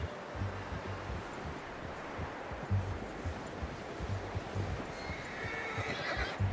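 Horse whinnying over a dense bed of rustling outdoor ambience in Red Dead Redemption 2, with rhythmic hoof clops and a brighter swell of noise near the end.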